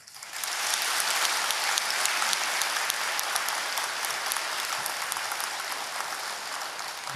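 Sustained audience applause filling a temple courtyard during a Buddha's Birthday ceremony at Hongbeopsa, steady and dense from start to finish with no voices over it.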